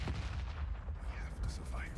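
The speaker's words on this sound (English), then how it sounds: "Oh, grenade." A grenade blast in the shooter Forever Winter rolls through a loud, continuous wash of battle noise, its low boom blending into steady rumble with a voice talking over it.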